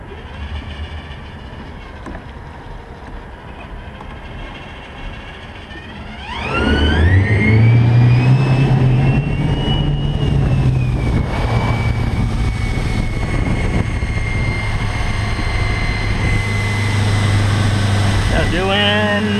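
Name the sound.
electric conversion car accelerating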